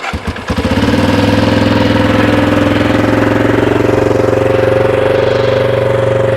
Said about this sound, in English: She started up, but she's idling a little harder than I'd like her to.